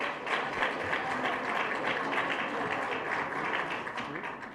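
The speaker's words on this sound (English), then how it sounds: "A round of applause again for this amazing organization." Audience applause at a community college scholarship fundraiser, a continuous, even roar of many hands clapping, fairly full and steady without distinct individual claps.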